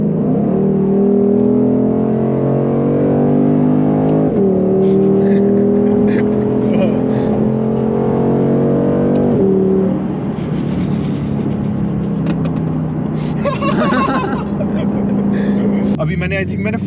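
Shelby GT500 V8 engine revving under partial throttle, a steady loud harmonic drone with pitch stepping up through gear changes, close and continuous, then easing near the end.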